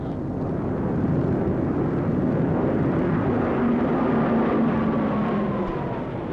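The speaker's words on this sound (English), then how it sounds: "These are Japanese planes." Japanese World War II warplanes fly overhead in a loud, continuous droning roar of piston engines, with the engine pitch sliding slowly as they pass.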